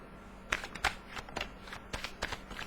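Tarot cards are shuffled softly by hand to draw a clarification card, making a quick, steady run of riffling flicks close by at low volume, with no talking.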